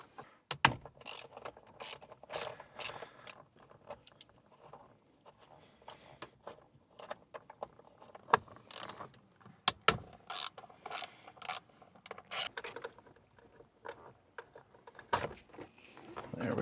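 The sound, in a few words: ratchet removing T27 Torx screws from steering wheel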